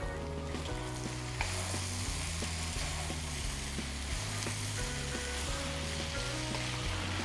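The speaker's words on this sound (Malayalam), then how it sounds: "വളരെ തിന്നായി കട്ട് ചെയ്തെടുത്ത 4 സവോളയും കൂടെ നമുക്കിതിലേക്ക് ഇട്ടതിന് ശേഷം നമുക്കിത് നന്നായിട്ടൊന്ന് മിക്സ് ചെയ്ത് കൊടുക്കാം." Chicken, sliced onions and spices sizzle and fry in a pan for a Kerala-style chicken roast. A spoon scrapes and stirs in a steady rhythm, and no one speaks.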